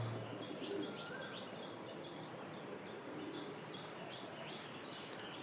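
Soft cooing of pigeons with faint chirps, steady low background hum, no talking.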